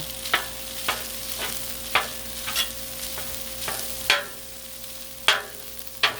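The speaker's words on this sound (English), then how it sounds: "Get our veggies stirred up a little." Chicken fried rice with vegetables stir-frying on a Blackstone griddle, with a continuous low sizzle and about ten crisp spatula scrapes at an irregular, unhurried pace, close and with no talk.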